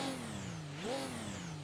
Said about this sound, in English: So this is the sound of a diesel engine.